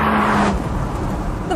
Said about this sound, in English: The very first thing you notice about driving the Maserati is that wonderful growly engine sound